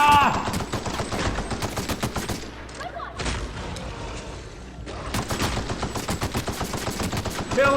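Rapid automatic gunfire in The Outer Worlds video game, loud bursts of rattling shots with a short pause midway before the firing resumes.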